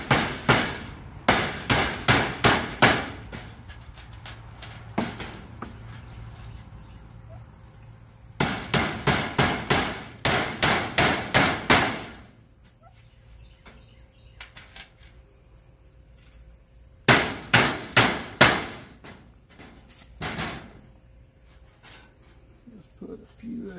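Roofing tacks being hammered into a turkey pen roof, heard as three separate bursts of rapid, sharp, close metallic blows in quick runs, with quiet gaps in between.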